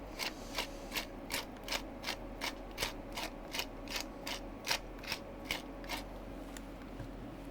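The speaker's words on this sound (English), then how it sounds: "Hello, pepper grinder." A pepper grinder cranks out pepper in a steady, evenly spaced ratcheting click, about two clicks a second, close and fairly loud over a low background hum.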